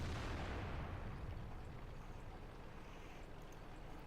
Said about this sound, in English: fires on the move with 2 seconds left, and takes out the IS